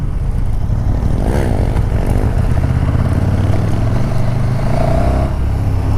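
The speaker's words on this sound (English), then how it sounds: "It chugs a bit at low RPM" A KTM 1290 Super Duke R motorcycle engine chugs steadily at low revs, a loud, throbbing drone close by with slight shifts in pitch and no speech.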